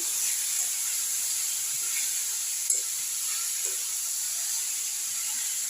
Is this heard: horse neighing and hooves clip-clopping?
no